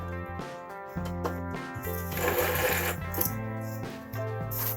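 A sewing machine back stitching the fabric of a homemade face mask, its steady mechanical hum running close and continuous with a brief denser whirring burst midway.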